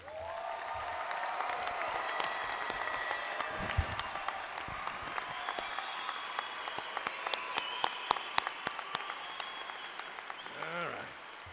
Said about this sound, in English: Please give our academic honorees a huge round of applause.